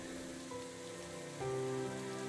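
Steady rain in the video game Psychedelica of The Black, a continuous even hiss of drops on surfaces under faint sustained background tones, unbroken throughout with no voices.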